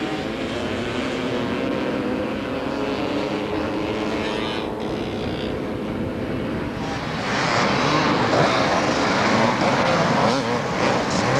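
Motorcycles racing on Southport beach in 1992, including a 250 Kawasaki, with a loud continuous engine roar that swells as a bike throttles up near the end.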